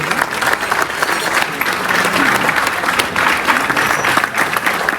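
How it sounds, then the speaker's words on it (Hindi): Theater audience gives loud, sustained applause at a live stage performance, dense clapping filling the room evenly without a break. "जोरदार तालियां हो जाए राजेंद्र जी के लिए, अंकित के लिए"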